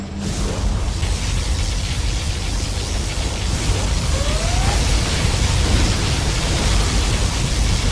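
Particle cannon firing in Command & Conquer Generals Zero Hour during a USA Laser battle: a steady, dense roar of broadband noise with a deep low rumble that continues unbroken for several seconds, a faint rising whine heard briefly midway.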